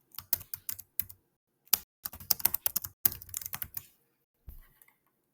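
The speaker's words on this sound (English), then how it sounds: "And now I can type in my answers." Answers are typed on a computer keyboard in bursts of crisp, close keystrokes separated by short pauses, clear and dry with no talking.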